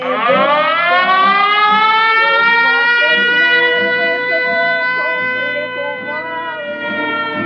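A civil defense air raid siren wails loudly and steadily, its rising harmonic tone sustained throughout with no pause, alone without talk.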